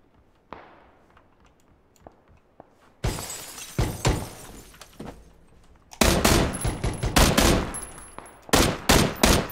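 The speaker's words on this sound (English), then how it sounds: "Oh, shots from the south." Bursts of PUBG gunfire crack out in quick, uneven volleys, starting sparse and faint, then growing into loud clustered shots near the end, with short gaps between them.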